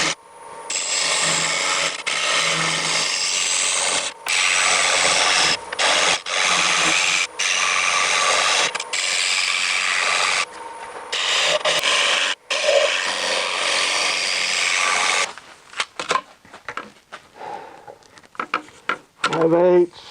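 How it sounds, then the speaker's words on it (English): A steel scraper works the interior of a magnolia wood bowl spinning on a lathe, giving a loud, steady rasping hiss in long passes with brief pauses, then quieter handling noises and scattered clicks toward the end. "I'm going to resort to a scraper on the interior"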